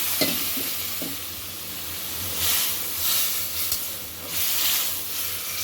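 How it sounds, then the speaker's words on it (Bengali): Lentils go into a hot pan with coriander powder and cook, making a loud, steady sizzle and hiss that swells and eases in waves, with a few sharp knocks at the start. "এরপরে আমি ডালটা ঢেলে দিলাম।"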